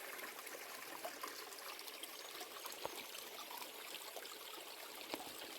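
Fresh mountain stream water trickles steadily on a hiking route in the Silver Peaks of New Zealand, a faint, even wash of running water with no voices.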